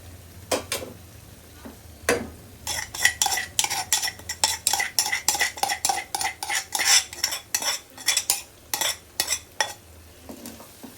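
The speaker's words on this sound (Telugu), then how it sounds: "ఇప్పుడు దీంట్లో మనం పచ్చిమిర్చి పేస్ట్ యాడ్ చేసుకుందాం." A spoon stirs green chili paste into gongura chutney in a pan, giving a steady run of close scraping, clinking strokes with a faint sizzle underneath and no talking.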